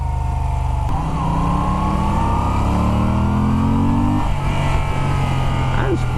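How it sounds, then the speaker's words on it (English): A V-twin Aprilia or Moto Guzzi motorcycle engine revs loudly nearby, its pitch climbing steadily over several seconds before settling back into a rumbling idle, with a brief voice underneath. "That engine sounds good."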